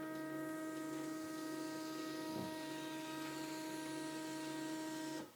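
A Zebra HC100 wristband printer running through a print job, a steady mechanical whine with layered tonal hum held evenly throughout, close and moderately quiet before cutting off at the end.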